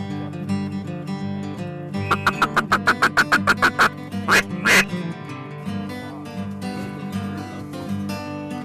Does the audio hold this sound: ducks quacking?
yes